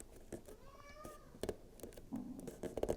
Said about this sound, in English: this is a real cat, it's not my little counter behind me